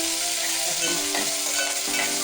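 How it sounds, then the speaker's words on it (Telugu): Steady, dense sizzle of mustard seeds, cumin, fenugreek, green chilli and onion frying in hot oil in a pot, continuous and close with no voices. "గిన్నె అయితే పెట్టి ఆయిల్ వేసుకొని ఆవాలు జీలకర్ర కొన్ని మెంతులు పచ్చిమిరపకాయ ఉల్లిగడ్డ ఇవైతే ఫ్రై కానివ్వాలి"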